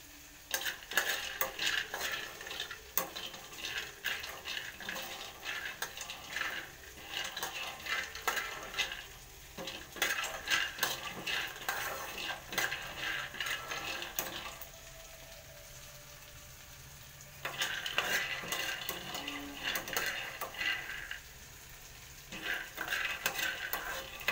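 Peanuts dry-roasting in a pan on the stove for tamarind chutney, stirred steadily with a spoon that scrapes and rattles the shelled nuts against the metal in rough bursts, with short lulls between, close and fairly loud, no voices.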